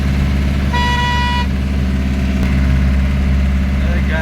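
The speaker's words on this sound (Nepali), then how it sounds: "टर्निङमा चाहिँ जहिले हर्न लाउने गर्नुहोस्" A vehicle horn sounds one steady honk of under a second at a road turning, over the loud, constant rumble of an idling engine close by.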